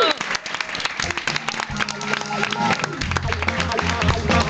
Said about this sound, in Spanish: con este fuerte aplauso de nuestro público